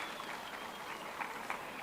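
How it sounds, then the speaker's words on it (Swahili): An audience claps for Kevin at a lively event in Meru, a dense continuous wash of applause lasting under two seconds with no clear gaps. "Pigeni Kevin makofi jameni"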